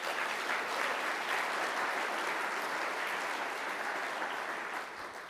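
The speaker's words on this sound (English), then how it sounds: "let us give them a hearty round of applause." Steady applause from a large audience at the closing ceremony of the World Geothermal Congress in Calgary, a dense wash of clapping that holds level for about five seconds and eases slightly at the end.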